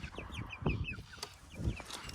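Chickens cluck softly through a snowy winter freeze, a few short calls and chirps close by against a quiet background.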